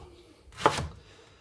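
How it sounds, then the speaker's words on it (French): A single knife cut through a leek, sliced thickly on the bias, giving one soft crunching chop against a board in a quiet kitchen. "Et le poireau, lui, on va le prendre, on va le couper un peu épais, biseauté."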